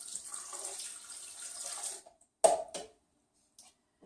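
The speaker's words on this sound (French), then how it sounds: "Et vous ajoutez une tasse et demie de l'eau de cuisson de vos légumes." Vegetable cooking water poured into a blender while making vegan macaroni and cheese: a soft two-second pour that stops, followed by a couple of brief clunks and faint taps.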